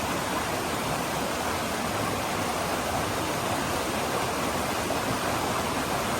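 Steady, loud roar of a waterfall cascading down rock chutes on Eliza Brook, fed by smaller falls above, a close, unbroken rush of water with no voices.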